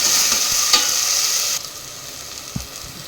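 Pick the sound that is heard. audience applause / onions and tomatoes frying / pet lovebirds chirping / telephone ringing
onions and tomatoes frying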